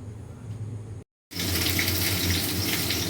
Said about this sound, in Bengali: আমি মাছটা ধুয়ে আসছি বন্ধুরা মাছটা ভালো করে ধুইয়ে